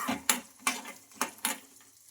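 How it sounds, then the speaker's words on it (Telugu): Roasted peanuts are tossed in hot oil in a pan, with four or five sharp scraping strokes over a faint sizzle, close and fairly quiet. "ఈ పల్లీలు వేసుకొని ఒక 30 seconds అలా ఫ్రై చేసుకోవాలి ఈ ఆయిల్లో."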